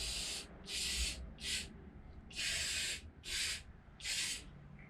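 Sumac vinyl sealer sprayed from an aerosol can onto a vintage 1966 Fender Precision Bass body: six short hissing bursts of spray with pauses between, close and clear.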